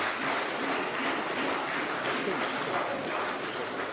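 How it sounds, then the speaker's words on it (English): Sustained, dense clapping fills a parliament chamber for the full stretch, steady and fairly loud, like a crowd of members applauding together without a break. "indulging that level of clapping does not impress anybody"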